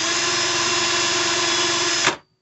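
Power drill spinning an RCBS 3 Way Cutter Head to trim and deburr a .223 brass case, a loud steady whine lasting about two seconds before winding down to silence, with no talking.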